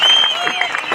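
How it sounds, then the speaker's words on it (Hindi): Applause from the audience at a political party gathering during a cheque presentation: a short, dense burst of clapping and crowd noise, loud and close, with a faint tonal ring running under it. "जोर से तालियां डबल"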